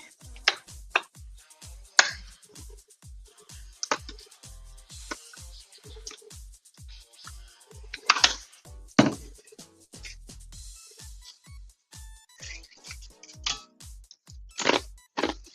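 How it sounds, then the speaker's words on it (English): Crispy bacon is crunched close to the mouth in a BLT meal, giving a run of sharp, rhythmic crunches roughly every half second, some louder than others. "don't know if you guys can hear me crunching on it"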